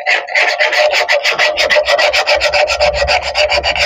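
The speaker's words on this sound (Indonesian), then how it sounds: "Kita harus amplasnya manual seperti ini." Hand sanding a spinning wooden workpiece on a wood lathe, a loud rapid rhythmic rasping that pulses steadily at close range, alone without talk.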